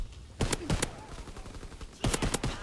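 Two quick bursts of M1 Garand rifle fire from Call of Duty: WW2, each a tight cluster of three or four sharp, loud cracks, separated by about a second and a half of low game ambience.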